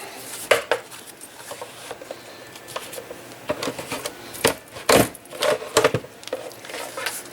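A Cinch binding machine punches holes in notebook paper, giving a series of sharp, close clacks and clunks at an irregular pace, some in quick pairs, with faint handling noise between them and no talk.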